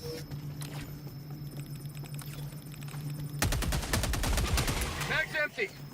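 Assault rifle firing in Helldivers 2: a rapid burst of loud, evenly spaced shots starts partway in and continues to the end over steady game background noise.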